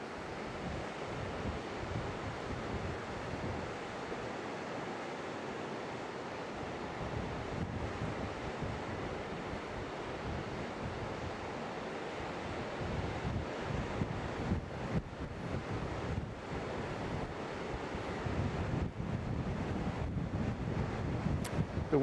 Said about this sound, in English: The wind is pretty strong off the Gulf right now.